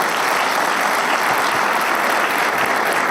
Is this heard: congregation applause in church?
yes